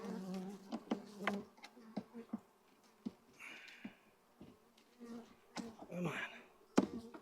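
Honeybees buzzing at a weak, dying hive, with scattered short buzzing bursts and passes close by, plus quiet handling noises and a brief spoken remark.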